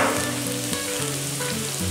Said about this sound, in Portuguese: Coloquei o alho aí pra fritar.